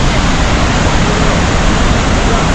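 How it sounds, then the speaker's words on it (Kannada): Heavy monsoon water pours at Jog Falls in Shivamogga, a dense, loud, unbroken roar that stays constant from start to finish with nothing else standing out. "ಸುತ್ತಲೂ ಹೆವಿ ನೀರು ಜೋರಾಗಿ ಬರ್ತಾ ಇದೆ"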